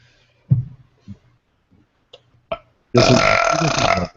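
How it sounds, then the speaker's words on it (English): A single loud, drawn-out belch of about a second, preceded by a few small clicks and faint sounds in a quiet room. "Jim wasn't here, so I felt obliged to belch"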